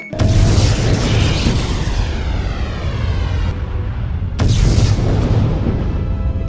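A planet-destroying weapon built by Santa's elf fires in a comedic sound effect: a loud, close rumbling blast roars and fades, then a second heavy burst erupts a few seconds later.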